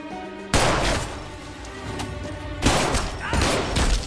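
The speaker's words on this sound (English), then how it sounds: "Shots fired." Gunfire in an action movie scene: a loud, sharp volley of shots bursts out, eases off, then returns in a second ragged cluster of blasts and crashes.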